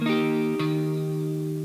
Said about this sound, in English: I'm going to do a stroke all the way through the chord, and then I'm going to come back and just hit the root note